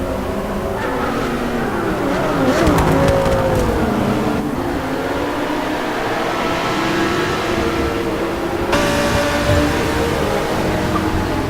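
Race cars accelerating toward the first turns at a pro-am race, engines droning and rising in pitch from an onboard vantage point, with a constant loud rush and no speech.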